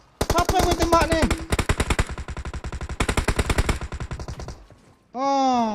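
Rapid automatic gunfire from PUBG Mobile, loud bursts of evenly spaced shots with a brief pause between them, ending in a sharp sweeping in-game sound effect.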